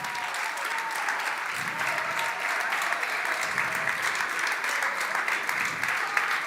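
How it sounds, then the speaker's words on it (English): An audience at the TechChill Riga founders stage gives the core team and volunteers sustained, even applause, a dense, continuous clapping with a few low rumbles under it. "let's give a round of applause to the core team,"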